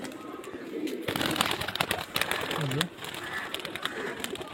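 Giribaj tumbler pigeons from Murshidabad coo softly nearby, a low rolling call breaking through a busy background with someone speaking over it.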